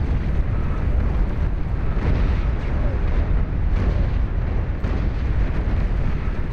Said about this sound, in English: this side of the map has been absolutely devastated by the Epic Zars firing away